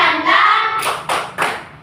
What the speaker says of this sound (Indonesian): Tepuk semangat dan